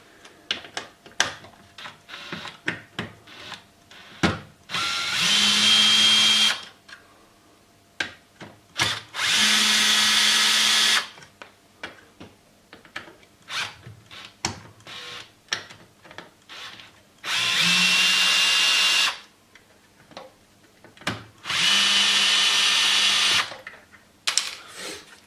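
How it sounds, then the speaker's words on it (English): An electric drill undoing screws on a Tamiya BearHawk RC car shock mount whirs in four sustained bursts of a few seconds each, with clicks and handling noises between them. "I don't normally use an electric drill to work with screws on RC stuff"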